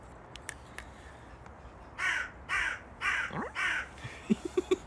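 A crow caws four times in a steady series, moderately close, after a few faint clicks, followed by soft short chirps.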